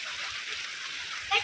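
A village stream near a house rushes and splashes in a continuous bright hiss of moving water, close by, with a slightly louder splash at the end.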